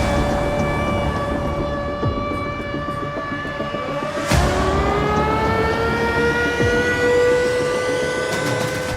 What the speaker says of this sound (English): First air alarm sirens.